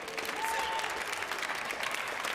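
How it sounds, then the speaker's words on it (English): Crowd applause for a squash player at a professional semi-final tournament, a steady wash of clapping from a distant audience, moderately faint. "Round of applause for David Baillargeon."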